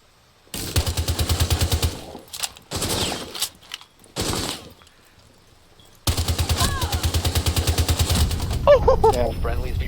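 Rapid automatic gunfire in Rainbow Six Siege, loud close bursts in two long stretches with shorter volleys between, ending under game chatter and brief voices.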